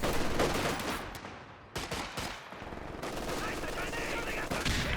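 Machine gun fire in the World War II strategy game Company of Heroes 2, bursts of rapid gunfire mixed with other battle noise and explosions, loud and fairly dense, with no talk.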